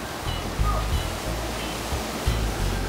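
Surf at Praia do Cachorro beach on Fernando de Noronha, a rough sea rolling in as a steady close wash of broadband noise with a couple of heavier wave surges.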